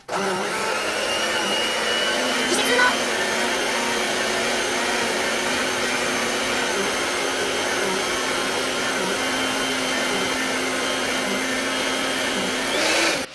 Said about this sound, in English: now that you've creamed the butter and sugar, you're going to add your egg in, and then you're going to keep mixing it together